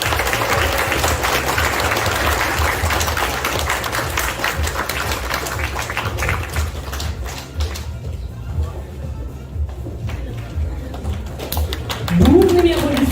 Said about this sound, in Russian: Бурными аплодисментами